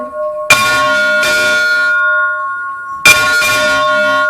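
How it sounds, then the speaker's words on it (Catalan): Two heavy strikes of large church bells in Montblanc, Catalonia ring out, each followed by a long resonant decay, then two more loud strikes; deep, clanging tones in a slow rhythm. "Això seria com toquem les campanes grans,"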